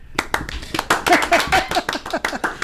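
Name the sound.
people clapping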